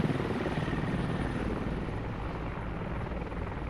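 Helicopter in the Squad video game flying overhead, a steady, loud rotor drone with continuous rumbling blade chop holding throughout, no voices over it.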